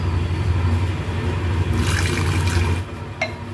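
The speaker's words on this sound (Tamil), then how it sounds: "அதுலேயே நான் இந்த தண்ணியை ஊற்றிக்க போகிறேன்" Water is poured onto tamarind soaked in a little water while making horse gram rasam, a brief splashing pour over steady low kitchen rumble.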